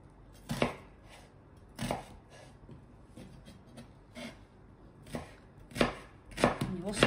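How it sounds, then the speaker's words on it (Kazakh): A knife finely chopping onions on a board, sharp distinct cuts in uneven clusters, several quick strokes then short pauses, close and clear with no talking. "осы жуанның барлығын үстіп уақыттап турап шығамыз"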